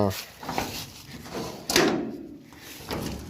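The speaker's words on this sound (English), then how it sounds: "has this little extra door here" A small extra door at the front of a trailer is worked open or shut, giving a sharp latch-like knock with lighter clunks around it, close by, while someone talks.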